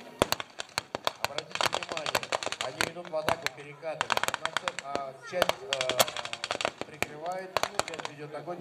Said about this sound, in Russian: Вот работали русские пулеметы.